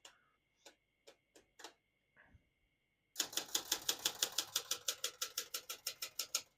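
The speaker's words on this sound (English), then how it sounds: "As you can see, all the keys type nice and none of them skip or stick." A 1976 Olympia Ultra-Portable vintage typewriter clacks close by: a few separate key strikes, a brief pause, then a fast, steady run of crisp typebar hits, sharp and quiet with no voices.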